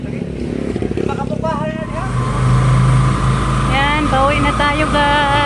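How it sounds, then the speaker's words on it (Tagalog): A repaired motorcycle engine idles with a steady low rumble beneath voices that talk over it most of the time. "Naayos na yung motor ni Jericho."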